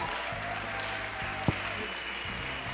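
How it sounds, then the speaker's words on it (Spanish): Applause at an international women's leaders forum in Mexico, a quiet, distant patter of clapping running throughout, with a single sharp knock near the middle. "¡Un aplauso!"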